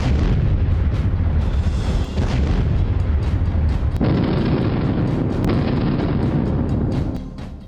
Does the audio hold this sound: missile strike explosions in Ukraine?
yes